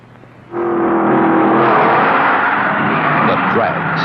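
A Datsun car at a drag race bursts in with a sudden loud engine roar, which climbs in pitch as it accelerates hard and then holds close and strong.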